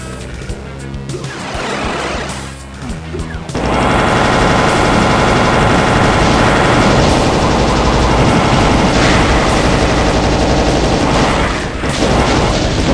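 Rapid plasma weapon fire burning energy cells in a Doom map, a loud continuous crackling barrage that starts abruptly and roars on without pause, thick with overlapping blasts.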